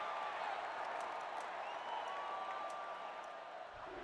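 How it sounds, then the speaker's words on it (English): Stadium crowd in the college football video game NCAA Football 09 roars in a steady, dense wash of cheering and applause, loud and continuous with no breaks. "And this crowd is going crazy."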